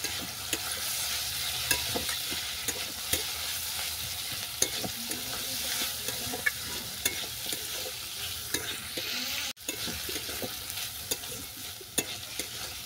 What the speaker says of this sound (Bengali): সবজির সঙ্গে পেঁয়াজটা হালকা করে ভেজে নেব।